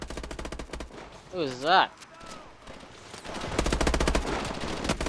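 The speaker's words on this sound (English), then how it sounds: "where are they shooting us from?" Gunfire bursts in the Call of Duty: Advanced Warfare campaign, rapid shots crackling near the start and again toward the end, with a player speaking briefly between them.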